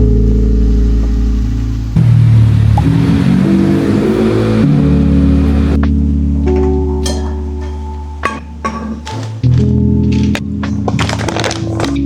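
A motorized tricycle's engine putters and revs close by on a flooded street, swelling and easing, with a few knocks and brief gaps and no talk.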